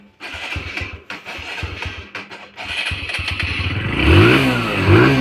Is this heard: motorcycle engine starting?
yes